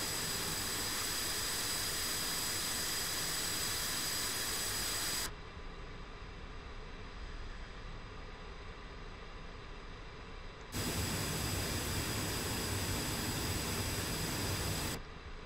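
A jet aircraft taxiing in the DCS flight simulator gives a steady, loud, broadband jet engine roar. The roar drops to a lower level partway through, swells back, then softens again near the end. No one speaks.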